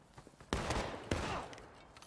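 Musket volley fire in a Civil War strategy game, two faint sharp cracks about half a second apart followed by a scattered rumble of shots, distant and low in level.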